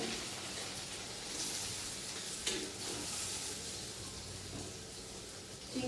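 Pointed gourd seeds and small diced potato frying in hot oil, a steady close sizzle with soft crackle throughout, no voices.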